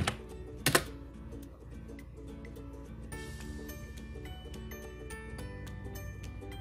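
Quiet keystrokes on a computer keyboard, typing a command in AutoCAD, with a brief louder clatter early on followed by soft, scattered key taps close by.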